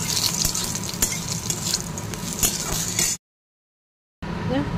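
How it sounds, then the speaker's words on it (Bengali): Bori lentil dumplings fry in hot oil with a lively sizzle and occasional stirring clinks, cut off by a second of silence before the sizzling resumes. "চলো বড়িগুলো একটু ভেজে"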